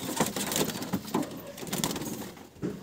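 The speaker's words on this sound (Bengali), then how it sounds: "এবার একটা কাগজি পায়রা দেখুন।" A Kagoji pigeon coos in short repeated low bursts against a busy, noisy market background, moderately loud and close.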